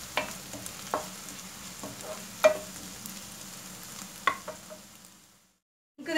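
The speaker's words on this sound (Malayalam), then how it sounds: "ഒന്ന് വഴറ്റുക" Onions and spice powders sauté in a pan for a soya chunks roast. The sizzle is soft and steady, broken by a few sharp scraping stirs of a spoon. It falls almost silent near the end before a new sizzle begins.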